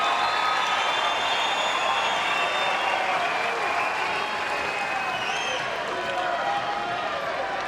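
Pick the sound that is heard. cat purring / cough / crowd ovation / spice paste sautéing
crowd ovation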